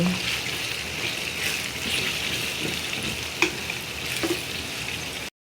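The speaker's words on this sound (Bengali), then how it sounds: "হলুদের গুঁড়া দিয়ে তারপরে একটু নেড়ে দিচ্ছি" Turmeric powder is stirred into hot frying oil while making olive pickle, giving a steady close sizzle with a few soft scrapes and knocks from the spoon, and no talk.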